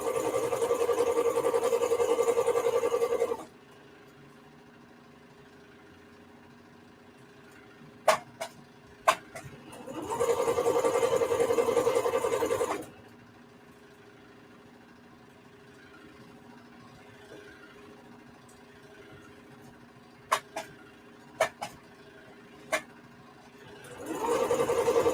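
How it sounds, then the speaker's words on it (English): Sewing machine running in two sustained bursts of steady, loud motor whir while stitching a men's shirt, separated by quieter pauses with a few sharp clicks and taps. "as I sew."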